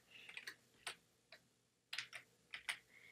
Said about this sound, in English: So I'm just going to let her type